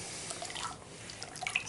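Water drips and trickles softly in a bathtub where a bath bomb is fizzing, a faint close patter of small splashes with no voices.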